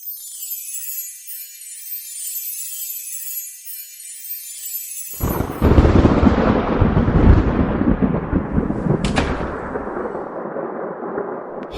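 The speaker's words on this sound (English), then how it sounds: "Oh boy, there's a big thunderstorm out there." A big thunderstorm rumbles outdoors: after a stretch of faint high hiss, a loud, deep roll of thunder breaks in and grows into a long, booming crash, with a brief sharp crackle near the end.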